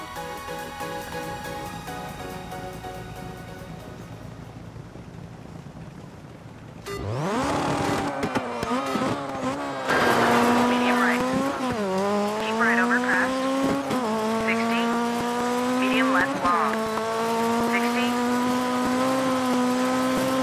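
Race car engines in a racing video game: quiet menu hum, then at about seven seconds a loud engine revs up and holds a high whine with repeated gear-shift dips and rises, brief talk under it.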